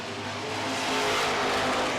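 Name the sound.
Dynasty super truck accelerating on race track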